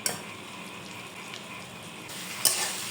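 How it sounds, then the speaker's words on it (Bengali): Soybean chunk vegetarian curry cooking in a pan, a soft continuous sizzle with occasional faint stirring scrapes and a brief clink near the end. "এখন এগুলোকে আবারও ভালো করে নেড়ে চেড়ে মিশিয়ে নিচ্ছি"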